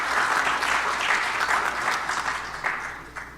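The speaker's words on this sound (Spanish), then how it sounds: "palmas para nuestros expositores en esta primera etapa de la noche" An audience at an evening mining-sector panel event claps for the speakers, steady, dense applause filling the room throughout and fading slightly toward the end.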